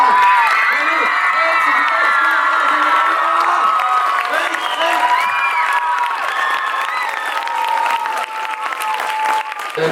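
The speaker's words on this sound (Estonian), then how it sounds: "Palju õnne, teeme suure aplausi nüüd." A large crowd claps steadily and loudly, with scattered cheers and whoops rising above the applause the whole time.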